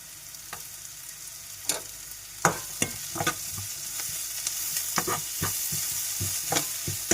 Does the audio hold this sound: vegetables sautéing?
yes